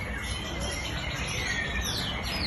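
A young ten-month-old white-rumped shama (murai batu) songbird sings a dense stream of high chirps and whistles amid a busy outdoor bird-contest din with insect-like buzzing, continuous and fairly loud.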